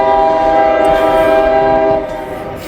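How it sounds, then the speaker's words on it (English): A Canadian Pacific train sounds its horn loudly and steadily as it passes close by, the blast holding for about two seconds before dropping off under rolling rail noise. "We got another train coming."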